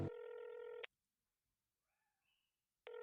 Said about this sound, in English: I brought in a ringing cell phone to show that this person is